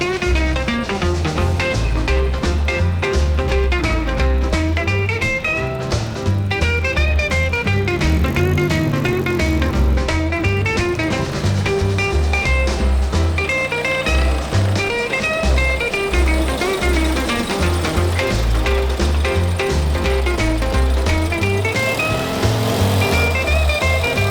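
A 1963 Morris Minor Traveller being driven, its small engine giving a steady, loud drone with shifting pitch that fills the whole stretch with no talk.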